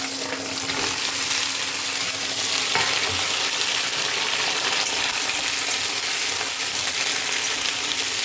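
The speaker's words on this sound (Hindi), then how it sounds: "तो अब हम सीम और आलू इसमें डाल देंगे।" Flat beans and potatoes fry together in hot tempered oil, giving a steady, close, fairly quiet sizzle and crackle with no voices.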